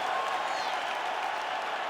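An arena crowd in the EA Sports UFC 5 video game applauds and cheers in a steady, even wash of sound, moderately loud and with no pauses.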